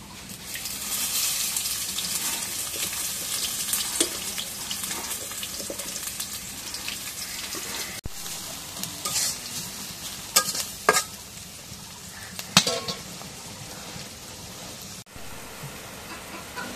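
Onion sizzles in hot oil in a pan, a steady crackling hiss with occasional stirring clatters and sharp knocks, loud and close throughout.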